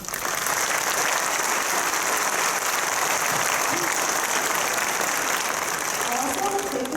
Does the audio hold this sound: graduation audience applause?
yes